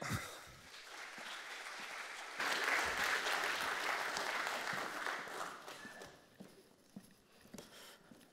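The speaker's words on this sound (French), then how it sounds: "Je vous demande un tonnerre d'applaudissements" Applause from a conference audience at a platform engineering event, a dense wash of clapping that swells louder partway through, holds steady, then thins out into scattered claps.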